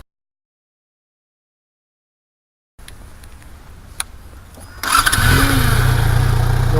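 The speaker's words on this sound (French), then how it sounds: "Donc une fois le moteur en route" A motorcycle engine cranks and fires into a steady idle after some quiet mechanical handling, close and loud, during a pre-ride check for a French motorcycle licence test.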